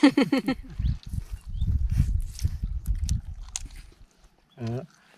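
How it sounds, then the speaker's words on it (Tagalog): Someone chews tough food in a rural Philippine home, wet biting and mashing sounds repeating in a steady rhythm close up, with people talking before and a brief voice at the end. "Nakapagod nguyain."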